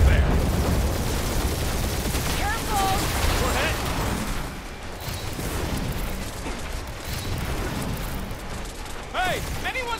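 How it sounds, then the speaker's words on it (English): Turret gunfire in the Guardians of the Galaxy game, a continuous rumble of shots and booms with whistling projectile sounds, under a busy mix of game noise. "We're taking fire!"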